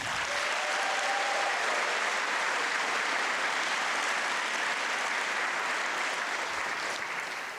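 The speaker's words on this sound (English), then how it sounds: "Let's give you a round of applause" Sustained applause fills a graduation celebration hall as graduating high school students are honored, a dense, steady wash of clapping from a large crowd that holds evenly throughout.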